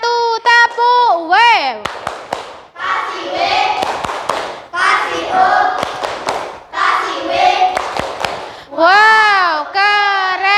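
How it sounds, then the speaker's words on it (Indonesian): A sixth-grade class performs the 'tepuk W' routine: children's voices chant together in a sing-song rhythm, punctuated by sharp, loud claps in a patterned sequence, close and lively throughout. "Kita kasih tepuk W untuk kelompok 1. Tepuk W."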